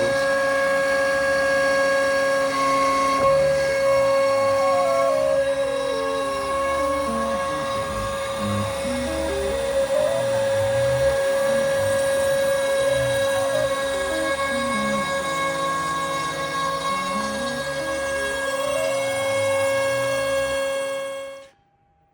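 A CNC router bit spins at about 16,500 RPM while cutting bevels into a sign, making a loud, steady, continuous whine. Shifting tones rise and fall as the machine moves, and the sound cuts off abruptly at the end.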